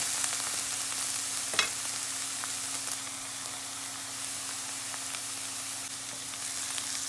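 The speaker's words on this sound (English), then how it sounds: "So let's mix up our whole geera and pepper flakes in that goodness." Whole cumin and pepper flakes frying in a pan for saag chicken, a continuous hissing sizzle with occasional stirring scrapes and a soft low hum underneath, no voices.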